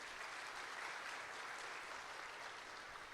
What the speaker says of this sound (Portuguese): irmãos, uma salva de palmas para eles também